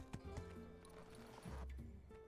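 Faint horse sounds from My Time at Sandrock, a few clopping hoof thuds and a short snort over soft sustained game music, quiet throughout.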